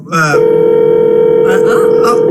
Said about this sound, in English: there's a phone call. There's a phone call in the show.